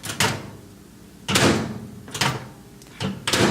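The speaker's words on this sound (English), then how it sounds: "Maybe opening the microwave door." A microwave door opens and shuts several times, each a short clunk with a brief rattle, separated by quiet pauses, close by.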